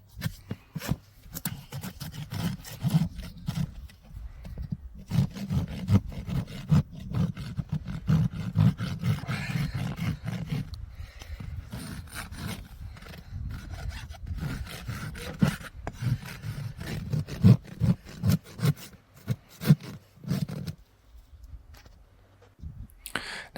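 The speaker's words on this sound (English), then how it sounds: "We'll fine tune it a little bit with the rasp." A rasp files a draft horse's hoof wall in long, rough scraping strokes that repeat close up and loud for over twenty seconds, with brief pauses between passes.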